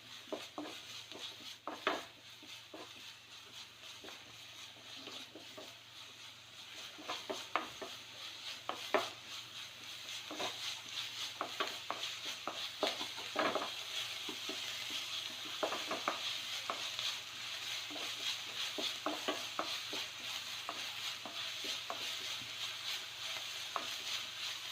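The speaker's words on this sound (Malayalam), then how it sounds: "ഈ സമയത്ത് കുറച്ച് ഉപ്പിട്ട് കൊടുക്കാം, ഈ ഉള്ളി ഒന്ന് വഴണ്ട് കിട്ടാൻ വേണ്ടിയിട്ട്." Sliced onions sautéing with salt in a pan for tender jackfruit cutlets, a soft continuous sizzle broken by repeated scraping and clinking of a spoon stirring against the pan.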